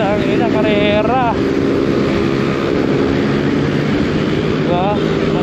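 Honda PCX160 scooters race along a street, their engines revving loud and close with rising and falling whines, while someone talks over the noise.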